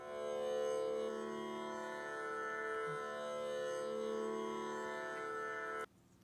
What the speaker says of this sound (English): A tambura drone sounds like this.